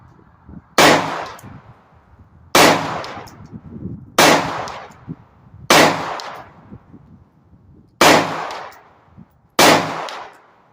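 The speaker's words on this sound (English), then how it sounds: "and 6 shots. Here we go." Six loud, sharp gunshots fired one at a time at a shooting range, evenly spaced about one to two seconds apart, each a hard crack followed by a short fading echo, with no talking.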